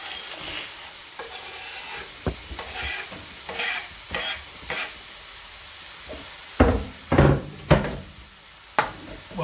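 Minced meat and onion for chilli con carne brown in a pan, soft sizzling under a series of distinct scraping, knocking strokes from a spoon or spatula, fairly close, with brief pauses between strokes and no talking.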